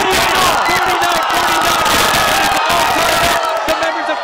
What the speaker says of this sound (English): The crowd has gone wild